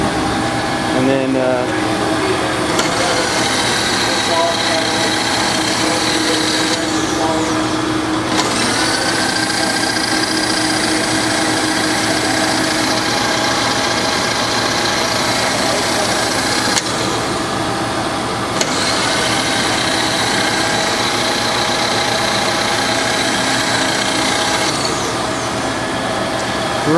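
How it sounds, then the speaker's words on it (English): A Wilton vertical milling machine runs at 2600 RPM with a continuous close mechanical hum and whine, and the tone shifts slightly at a few points. "right now we're running at the RPMs on there. It's 2600 RPMs."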